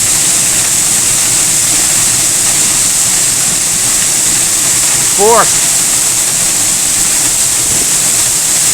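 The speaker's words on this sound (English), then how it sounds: "It's the powerful noise it hits when it hits right in the centre there." Eas Mor waterfall in spate at High Kildonan roars loud and unbroken throughout, a dense broadband rush, with a brief voice speaking over it near the middle.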